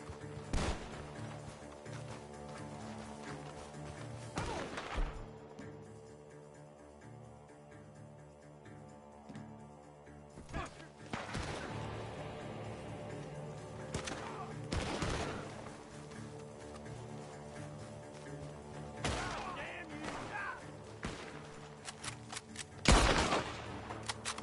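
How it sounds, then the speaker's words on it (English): Gunfire in the Red Dead Redemption 2 video game: several loud, sharp gunshots and bursts ring out at irregular intervals over a steady bed of game music and ambience. "Gunshots are coming from..."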